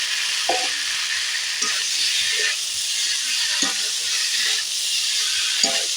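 Pointed gourd being stirred in a pan with fried spices, a steady loud sizzle running throughout with scraping spatula strokes recurring every second or so, no talking.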